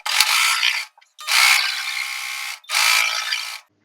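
Sewing machine stitching a four-tuck blouse lining: three bursts of fast, whirring needle rattle, each a second or so long, close and loud, separated by brief pauses.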